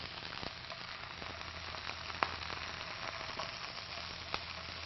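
Scallops sear in a hot pan, producing a soft continuous sizzle and crackle with a few small sharp pops, fairly faint and close, with no talking.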